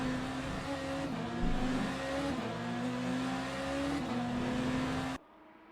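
A BMW race car at Le Mans on the Mulsanne Straight in a racing game holds a steady, droning engine note. Its pitch steps down with each gear shift, then cuts off abruptly at the end.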